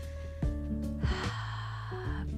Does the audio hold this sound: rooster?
no